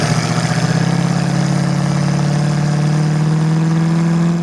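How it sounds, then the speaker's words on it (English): A 1968 Ford Mustang's 302 V8, fuel-injected and automatic, is held in neutral. Its engine runs loud and close with a steady low rumble that swells slightly as it is revved. "Pop it in neutral, rev it up, sounds good."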